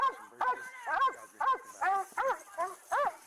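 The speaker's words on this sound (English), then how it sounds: "Unhappy noises as the dog's barking." A dog in a game barks and yips in short separate bursts, about seven in a row with brief gaps, clear and close with little else around.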